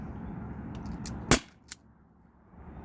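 A modified Umarex HDP50 Gen 1 pistol fires an 8.4 gram steel ball bearing: one sharp, loud crack with a fainter click just after, set against a low steady background.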